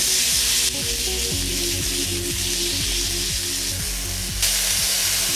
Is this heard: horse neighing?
no